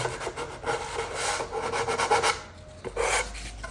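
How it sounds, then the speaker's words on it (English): Sandpaper rubbed back and forth along a wooden glazing bar, close and rasping in steady strokes with a brief pause before the scraping resumes, with no talking. "Got loads of glazing bars to sand."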